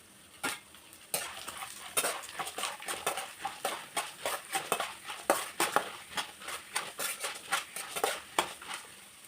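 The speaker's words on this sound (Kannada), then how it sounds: "ಹಾಗೆ ಉದ್ದಿನಬೇಳೆ ಮತ್ತು ಕಡಲೆಬೇಳೆ ಆ್ಯಡ್ ಮಾಡ್ಕೊತಾ ಇದ್ದೀನಿ." Urad dal and chana dal frying in a pan while being stirred, with steady sizzling and repeated sharp scrapes and clinks of a utensil against the pan, close and busy throughout.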